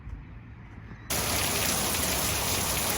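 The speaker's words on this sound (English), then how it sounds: "This is our first rain in I don't know how long." Rain suddenly starts pouring down, a dense, steady hiss of drops that goes on evenly after a quieter opening moment.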